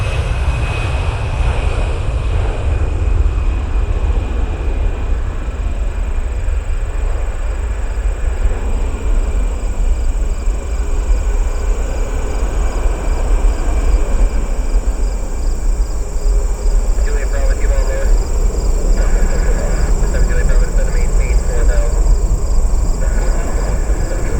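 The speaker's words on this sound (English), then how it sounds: "There's the United Airlines being United special livery taxiing out" Steady, loud jet engine rumble and whine of a United Airlines airliner taxiing out, continuous for the whole stretch with no voices.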